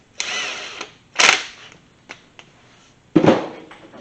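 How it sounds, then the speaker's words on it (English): A torque wrench works bolts on a Porsche 722.6 Tiptronic transfer case, giving a few close, separate bursts of ratcheting and creaking with brief gaps between them. "we just take them down so they're snug, and we use a torque wrench"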